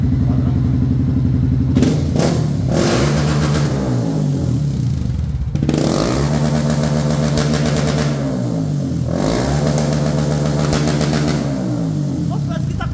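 A Honda CB 300F Twister motorcycle engine fitted with an Athlon programmable ECU runs close and loud, idling with a steady rumble and rising in several revs that swell and fall back; someone talks over it.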